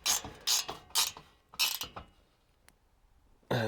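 A 9/16 ratchet clicks in short, loud bursts while tightening a bolt on a bed rack bracket over a soft tonneau cover, four quick cranks followed by a pause, a faint tick, then one more burst.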